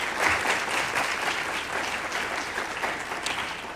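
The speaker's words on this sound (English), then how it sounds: "Can we give a nice round of applause for this family?" Chamber audience at a city council meeting applauds a family in a steady, even wash of clapping from many hands, moderately distant and sustained throughout.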